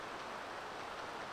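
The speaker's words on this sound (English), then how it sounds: "Raining? Yeah, it's raining." Steady rain in the video game Dragon Warrior 7, a dense, even hiss of falling water that holds at the same level throughout the short stretch, with no voices over it.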